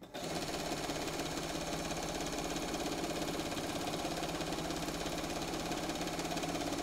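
A sewing machine running steadily during free motion quilting, a continuous fast mechanical whir and needle chatter at close range, holding an even loudness throughout with no talking.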